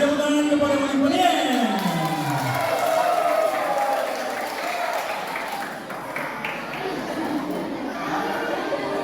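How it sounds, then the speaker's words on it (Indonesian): Audience applause at a church anniversary celebration and prize-giving in Papua, a continuous patter of clapping blended with crowd chatter and a voice over the sound system, fairly loud and sustained throughout. "Berikan tepuk tangan kepada Ibu Pendeta."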